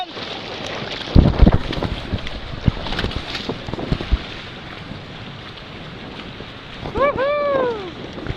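A sailboat runs through strong wind and waves, with gusty wind buffeting the microphone, water sloshing and splashing against the hull, brief knocks, and excited voices rising near the end.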